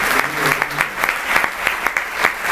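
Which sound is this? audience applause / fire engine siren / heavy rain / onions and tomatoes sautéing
audience applause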